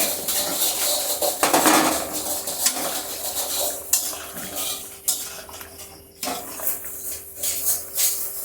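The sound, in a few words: pumpkin-seed fritters simmering and stirred in boiling curry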